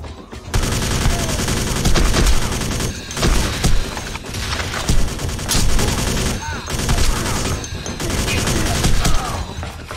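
Rifle gunfire rattles through the Alpha Prime video game on PC, loud near bursts of rapid shots repeating across the whole stretch with only brief pauses between volleys.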